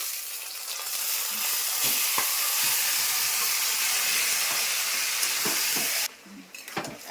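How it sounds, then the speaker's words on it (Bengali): Taro pieces fry in a pan with a loud, continuous sizzle and scattered stirring clacks, the hiss dropping away abruptly near the end. "আমি এখন দিয়ে দিচ্ছি কচুগুলি"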